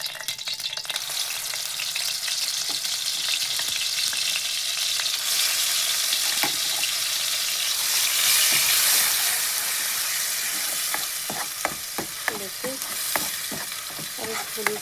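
Masala with turmeric, sambar powder, chilli and salt fries in hot oil, giving a steady close sizzle, with scraping stir strokes becoming more frequent toward the end.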